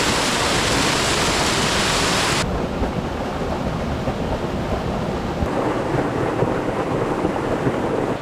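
A small waterfall pours into a dammed pool, making a loud, constant rushing roar up close that shifts in tone partway through without any pause.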